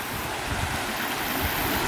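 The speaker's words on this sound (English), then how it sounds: "going over the rocks here, kind of a bit of a rapids" Steady broadband rush of river water tumbling over rocks in small rapids near a bridge and a driftwood-strewn embankment, continuous and close with no voices.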